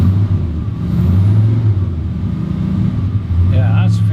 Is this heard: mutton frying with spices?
no